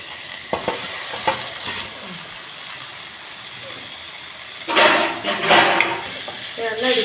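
Green chillies and tomato fry in a pan with a steady sizzle. Scattered spoon clinks come first, and then a louder burst of stirring and scraping follows.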